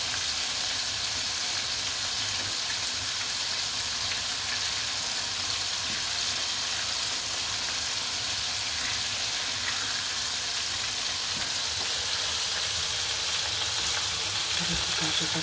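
Squid tentacles frying in hot oil as calamari make a dense, steady crackling sizzle that stays loud and close throughout, with no voices over it.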